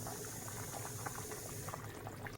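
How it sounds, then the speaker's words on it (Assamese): Fish curry boils in a covered pot, a steady bubbling and gurgling, close and moderately quiet, cutting off abruptly at the end. "এয়া মাছটো উতলি আছে"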